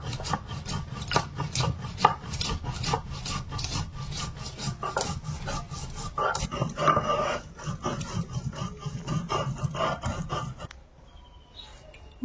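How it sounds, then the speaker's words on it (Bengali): Black pepper is ground by hand on a stone, a rapid rhythmic rasping of stone on stone repeated many times, close and fairly loud, before the grinding stops and it falls quiet. "সেই জন্য গোলমরিচটা আগে বেটে নিচ্ছি"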